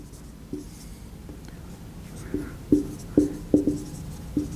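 Pen or chalk strokes writing out a greatest integer function problem in a calculus lesson, a run of short scratchy taps and strokes that cluster toward the end, close and fairly quiet, with no voice over them.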